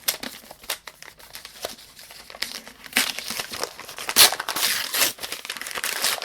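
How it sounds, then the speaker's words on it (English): Book being unwrapped from a September subscription box: crinkly paper or plastic rustling and tearing in bursts, close and fairly loud, with a sharper crackle midway and no talking. "we can open up the book for this box"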